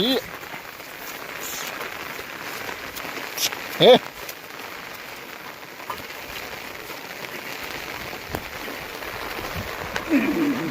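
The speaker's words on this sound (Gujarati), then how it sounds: "વરસાદ ચાલુ છે" Light rain patters steadily on a surface nearby in a forest in Gir, a soft continuous hiss with a few sharper taps and faint background noise.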